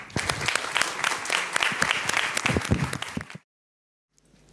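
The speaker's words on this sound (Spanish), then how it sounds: "un abrazo y un aplauso para mis colegas" A panel audience claps in a loud, dense burst of applause for a few seconds, then stops abruptly into silence.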